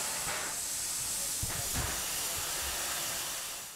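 Loud, steady steam hiss from the small Cévennes steam train, a broad continuous rush with a few low thumps and knocks beneath it, fading slightly at the end.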